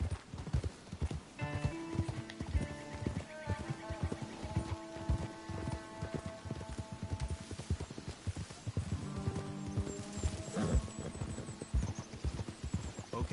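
Horse hooves clip-clop steadily along a road in the Red Dead Redemption II game world, close and continuous, with a brief whinny and game music tones layered underneath.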